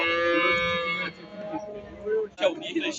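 Cattle at a busy livestock market where calves are being sold, with a long drawn-out bovine moo followed by shorter calls and lowing amid the murmur of people talking nearby.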